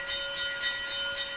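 Train sound effect played through speakers on a model railroad layout, a steady rumbling rail noise with a constant whistle-like tone and rhythmic swells, fairly quiet and continuous with no talk.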